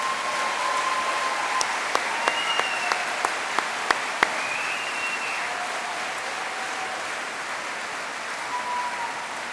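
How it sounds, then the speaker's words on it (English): Graduation audience at a 2013 Portsmouth University engineering ceremony applauds university staff, a steady sustained wash of clapping filling the hall with a few sharper individual claps standing out near the middle. "Let's just give them a round of applause as well"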